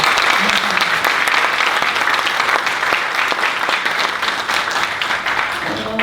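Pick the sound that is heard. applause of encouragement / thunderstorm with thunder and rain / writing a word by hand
applause of encouragement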